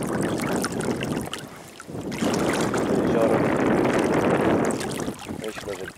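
Small boat pushed along on water by a Haswing Osapian 36 lb electric outboard, returning to camp on a windy day; steady close-up water wash and wind rumble fill the clip, broken by a brief lull near the two-second mark.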